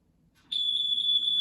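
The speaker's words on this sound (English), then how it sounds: "That was the smoke alarm." A smoke alarm sounds, a piercing high-pitched continuous tone that starts abruptly after a quiet moment and holds loud and steady.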